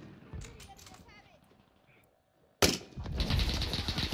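Gunfire in the Warzone video game starts as scattered quick shots, then erupts suddenly into a loud, sustained burst of rapid firing that continues to the end.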